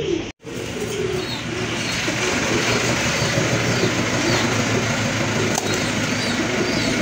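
Pigeons in a loft coo faintly under a loud, steady rushing clatter like a passing train, which dominates throughout after a brief dropout at the start.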